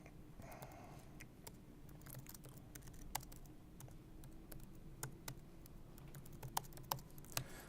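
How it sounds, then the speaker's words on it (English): Scattered, irregular clicks of typing on a computer keyboard, faint and close, in a quiet room with a soft background hum. "Typing on stage is super easy."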